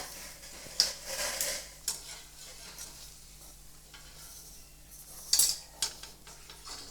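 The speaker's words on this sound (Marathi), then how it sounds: "कांदा पिठामध्ये पूर्ण मिक्स करून घ्यायचा" Sliced onion stirred by hand into gram flour batter for onion bhaji, giving soft wet squelching and scraping with a few sharp clinks of a utensil against the bowl, close and fairly quiet, with no talking.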